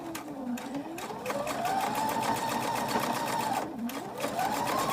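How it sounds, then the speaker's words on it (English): A sewing machine runs steadily while chain stitching a quilt-along block, its motor whirring continuously with brief speed dips and rises, close and fairly loud with no talk over it. "we're just chain stitching"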